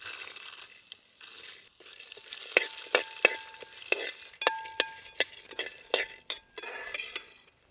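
Cashews and pumpkin seeds roasting in ghee in a pan, a soft sizzle broken by sharp, repeated clinks and scrapes of a metal spoon stirring against the pan.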